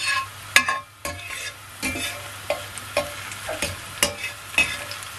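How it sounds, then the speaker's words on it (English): Jamaican pepper shrimp frying in a pan under a soft sizzle, with a utensil knocking and scraping every half second or so, close by and with no talking. "And let it sit and fry, guys, for a while."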